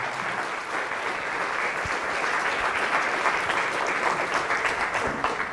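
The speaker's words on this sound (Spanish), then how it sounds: "Fuertes aplausos a la palabra de Dios." Steady applause from a church congregation after a scripture reading at a Catholic service, dense clapping sustained at an even level throughout.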